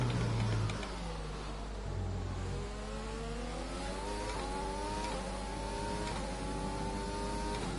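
An F1 car engine from the racing game F1 2020 drones steadily while overtaking a Renault, its pitch climbing gradually through the gears, loud and close with no talk over it.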